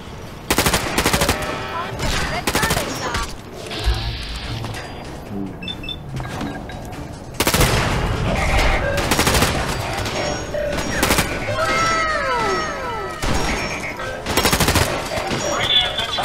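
Turrets open fire in Fallout 4 Automatron: loud rapid bursts of gunfire rattle in repeated volleys, mixed with whirring, electronic game effects and short gaps between the salvos.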